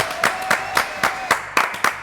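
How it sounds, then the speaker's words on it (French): A studio audience at a French television show claps in regular bursts, sharp overlapping hand claps rising and falling roughly every quarter second, fairly close and steady. "Applaudissements pour mes invités"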